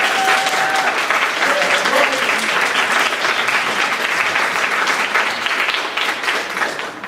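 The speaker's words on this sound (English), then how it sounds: "students, why don't you applaud your parents as well?" Sustained, loud applause from an audience of parents and students at a high school band concert, dense and steady throughout before easing slightly at the end.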